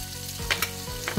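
Pork frying in a little cooking oil for a Filipino dish, a steady sizzle with a few brief scraping or clinking bursts from a utensil, close and moderately loud, no voices.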